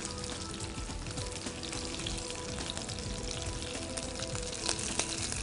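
Ingredients being roasted in a pan give off a dense, steady sizzle with faint crackles, close and continuous, with a couple of small clicks near the end and no voices.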